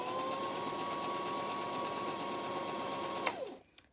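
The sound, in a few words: Brother sewing machine back stitching fabric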